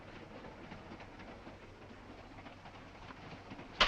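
A train runs steadily on its rails on the way to Washington, giving a low, continuous rumble with faint rhythmic clatter at moderate distance and no talking, ending in a brief sharp hiss.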